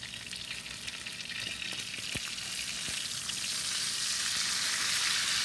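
A ribeye steak sears in a hot pan, loud continuous sizzling and crackling close up, swelling slightly in intensity, with a few sharp pops and no voices.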